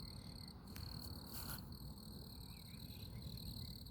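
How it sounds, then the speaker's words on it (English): Crickets chirp at night in a quiet setting, a faint steady high trilling hum with a few louder chirps near the start and no voices. "when it's quiet like this, when you hear the chirping, the crickets, it's like a low hum"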